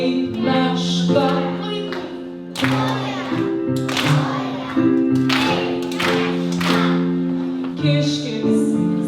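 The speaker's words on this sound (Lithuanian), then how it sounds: "Ploja, ploja, taip meška." Clapping at a Lithuanian school Christmas concert in Boston, with a few sharp bursts of handclaps rising over a sung children's melody and piano-like tones that carry on throughout.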